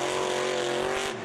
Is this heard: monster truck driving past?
yes